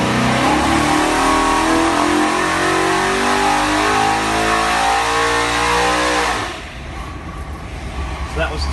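A Ford 408 Cleveland V8 in a Ford XE Falcon S-Pak, a pump-gas street and strip motor, screams loud and close on a dyno, holding a high rev near 7500 rpm before cutting off into a lower idle, with voices over it.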